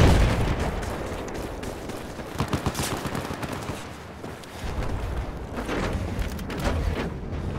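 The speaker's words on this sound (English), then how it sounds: "Yeah, that's another bomb." Battlefield 4 combat: a bomb blast and rapid gunfire burst out in dense, loud volleys, with a quieter lull midway before the shooting picks up again.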